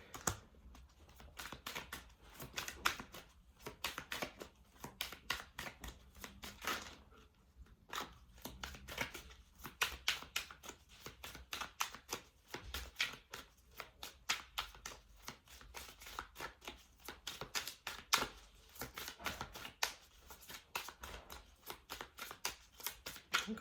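Tarot cards from a witches deck being shuffled, a long run of quick soft riffling clicks and taps close by, steady with brief pauses.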